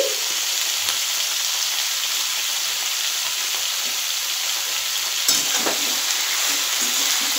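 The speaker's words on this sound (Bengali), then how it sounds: "লাউ ডাটাটা দিয়ে এবার আমি একটু নেড়ে নেব আবার" Bottle gourd stems frying in a pan give a constant, even sizzle, with a few soft stirring knocks and one sharper clack, and no voices.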